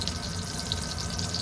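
Water from a kitchen tap poured into carbonara sauce to loosen it, a brief steady splashy hiss heard close with no speech.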